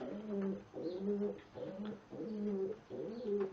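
Pigeons cooing inside a loft with deep litter on the floor, soft repeated rolling coos in a steady rhythm, fairly faint and close with no talk.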